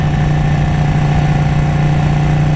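Ducati Panigale 899 sport motorcycle engine droning steadily while riding, a constant loud mid-pitched hum with no clear gear shifts standing out.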